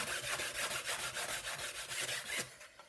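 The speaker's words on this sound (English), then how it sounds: "if you take a piece of sandpaper, 60 grit, and you just start sanding" Rapid, rhythmic rasping of 60-grit sandpaper scrubbing back and forth against a hard fiberglass edge, close up, about a dozen strokes before it stops.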